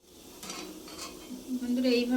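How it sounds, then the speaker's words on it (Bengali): Malpua batter frying in hot oil in a home kitchen, a soft sizzle with light stirring and utensil clinks that swells louder toward the end, with no talk. "এইভাবে একে একে ভেজে নিয়ে আর রসের মধ্যে ফেলে দেব"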